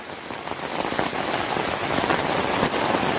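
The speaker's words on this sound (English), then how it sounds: "It's going to rain freaking hard, man." Heavy rain pours down outdoors during a December storm, a dense, steady hiss with scattered louder drops and splashes building slightly over the few seconds, no voices over it.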